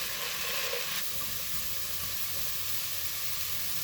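Mushrooms, carrots, celery and onions toasting in a hot pan give a loud, continuous sizzle and hiss, steady throughout with a brief stir near the start, and no voices.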